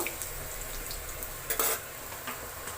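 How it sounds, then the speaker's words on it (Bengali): Crushed garlic sizzles steadily in a hot pan for a prawn and taro-leaf curry, with a soft continuous frying hiss and brief scraping stirs against the pan. "থেতো করে রাখা রসুনগুলো আমি দিয়ে দিচ্ছি রসুনটা একটু ভাজা ভাজা হয়ে গেলে"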